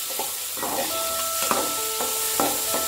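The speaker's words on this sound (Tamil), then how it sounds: "நல்லா வதக்கி விட்டுக்கோங்க." Onions sizzle and hiss steadily in a hot pan while crab masala is being made, broken by several sharp scraping stirs and clinks.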